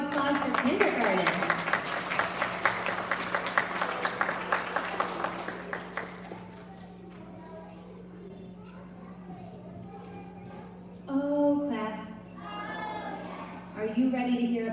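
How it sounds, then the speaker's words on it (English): A school audience applauds kindergarteners at an elementary student recognition ceremony, with loud dense clapping for about six seconds that then fades, followed by children's voices and an adult speaking. "one big round of applause for kindergarten"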